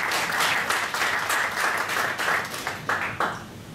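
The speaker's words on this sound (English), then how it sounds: "It's a round of applause." A conference audience in Hong Kong claps in a round of applause. The clapping is full and continuous at first, then thins and fades toward the end.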